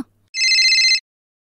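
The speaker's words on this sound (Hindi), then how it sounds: "क्यों किसका फोन आ गया" A single short electronic telephone ring, bright and trilling, sounds clearly after a moment of near silence.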